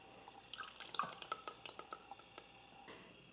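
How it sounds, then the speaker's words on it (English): Heavy cream mixture drips and trickles through four layers of cheesecloth into a strainer, a quick cluster of small wet drops close by that thins out to a few final drips, faint overall. "I want to pour this mixture into the cheesecloth."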